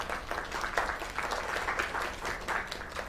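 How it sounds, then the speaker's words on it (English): An audience at an open mic night claps and applauds continuously, a dense, even patter of many hands that holds steady from start to finish. "Another round of applause."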